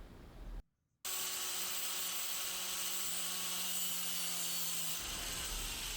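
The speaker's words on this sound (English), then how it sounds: "I've marked it in the middle to cut it into 2 halves using a metal blade on an angle" An angle grinder with a metal blade cuts through a length of steel wire, a loud, steady high-pitched whine with a grinding edge that starts abruptly after a brief silence and runs for several seconds.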